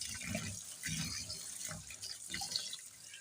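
Rice is washed by hand in water to rinse out the starch, with quiet rhythmic sloshing and swishing pulses roughly every half second, close and soft.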